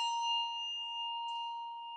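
A handbell rings once with a clear, sustained tone that hangs steadily and fades only slightly over two seconds, heard close and alone during a handbell weaving demonstration.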